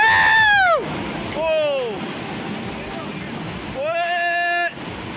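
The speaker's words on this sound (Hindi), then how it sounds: "धर्मशाला में बादल फटने से इतनी बाढ़ आ गई कि सड़क किनारे खड़ी गाड़ियां पानी में बह गई" Floodwater rushes after a cloudburst in Dharamshala, Himachal Pradesh, a continuous broad roar close by, with raised human voices calling out over it several times.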